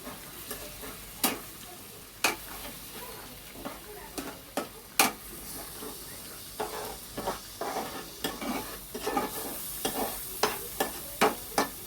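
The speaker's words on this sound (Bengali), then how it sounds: "এবার ভালো করে মশলাটাকে সব কিছু একসাথে দিয়ে কষে নেব।" Ground spices with a splash of water sizzle steadily in a pan while a spoon stirs and scrapes, giving irregular sharp clicks and knocks against the metal, close and fairly quiet.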